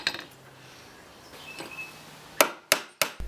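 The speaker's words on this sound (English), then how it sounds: "I nail the second foot on after I have the saw stool upright" Hammer strikes driving nails into pallet wood to attach the foot of a saw stool, a few sharp close knocks after quieter handling sounds.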